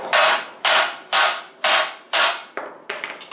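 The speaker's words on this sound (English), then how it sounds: "And then I have hammer, and I hammer that pipe through that." A hammer strikes a muffler pipe on a car or pickup truck, driving it into place with six sharp metallic blows in a steady rhythm, followed by a few lighter taps, close and loud.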